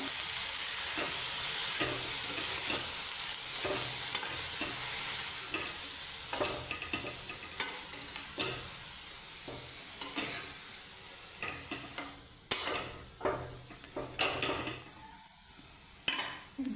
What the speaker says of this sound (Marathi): आता हे सगळं व्यवस्थित परतवून घेऊया